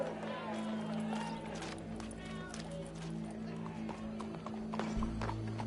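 Rhythmic clip-clop of horse hooves trotting along in a PS4 video game, mixed with game background noise and a steady low hum.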